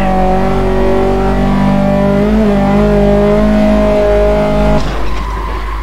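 A Kia Cerato engine in the Assetto Corsa racing game holds a loud, steady high-revving drone with tire squeal, then drops off sharply near the end.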